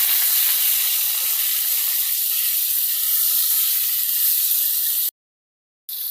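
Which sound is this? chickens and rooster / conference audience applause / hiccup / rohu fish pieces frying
rohu fish pieces frying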